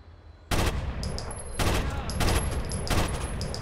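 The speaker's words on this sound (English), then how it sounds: "Now he's shooting me." Bursts of automatic gunfire from the Rainbow Six Vegas video game on the Trainyard map, loud and close, arriving in several repeated volleys over about three seconds with brief gaps between them.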